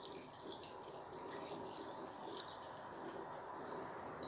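Water pours steadily into moi moi ingredients, including crayfish, before blending, a continuous soft running and splashing that stays even throughout with no talk.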